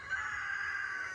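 A young rooster crows in one long, steady, fairly loud call from a backyard flock where several roosters were hatched, with no talk over it.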